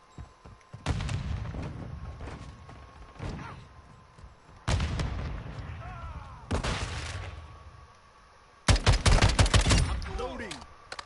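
Battle rifle fire in Call of Duty Modern Warfare II, with four loud bursts of rapid shots separated by quieter gaps, the last burst the heaviest, each ringing out briefly after the shots.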